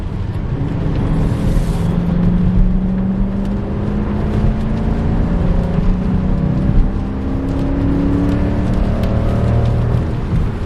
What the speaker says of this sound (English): the sound this V8 makes is intoxicating